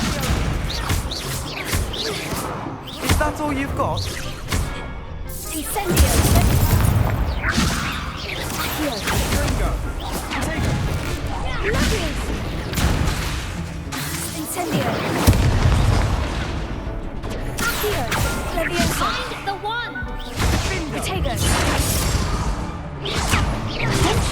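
Repeated Confringo blasting-spell explosions from the Hogwarts Legacy video game: loud, heavy booms and crashes with whooshing bursts, arriving in clusters throughout, with brief voices mixed in.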